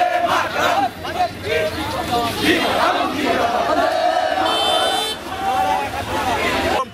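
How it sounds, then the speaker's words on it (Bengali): BJP protesters block the road at Bandel crossing in Hooghly, shouting slogans against the state government. A loud, dense crowd chants and yells together in a steady roar, with a horn sounding near the end. "রাস্তার উপর দাঁড়িয়ে থেকে পথ অবরোধ করা হয়। রাজ্য সরকারের বিরুদ্ধে চলে স্লোগান।"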